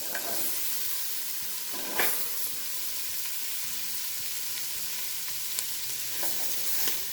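Vegetables sauté in a pot for a cheddar broccoli and potato soup, a steady close sizzle broken by occasional scraping stirs of a utensil against the pot.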